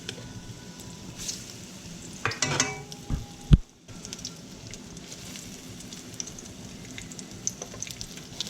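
Breadcrumb-coated fish sizzles in a hot pan, giving a steady crackling fry with a few louder pops and scrapes partway through.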